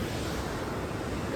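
A waterfall pours down by a bridge at Rihegaon Dam, giving a loud, constant broadband roar that fills the scene without a break.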